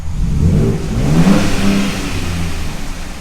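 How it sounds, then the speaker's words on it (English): A 2024 Ford Ranger Raptor pickup's V6 engine revs up in neutral, rising from a low rumble to a louder growl and then settling back toward idle, loud and close. "let's rev it a little bit in neutral"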